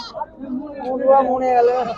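Goats bleating at a busy livestock market, a wavering close bleat rising and holding for about two seconds over faint crowd murmur and nearby talk.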